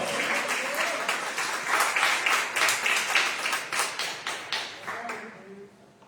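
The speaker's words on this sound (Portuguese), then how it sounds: "Você pode aplaudir o nome do Senhor" A church congregation claps together, the loose rhythmic applause building and then fading out over about five seconds.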